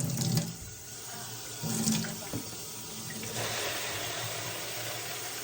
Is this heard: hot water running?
yes